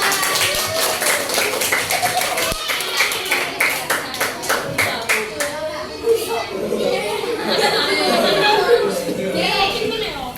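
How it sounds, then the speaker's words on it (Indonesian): A class of fifth-grade schoolchildren claps for a student group after its presentation, a burst of quick, dense applause mixed with children's chatter and voices, fading into lively classroom noise. "beri tepuk tangan buat kelompok 4"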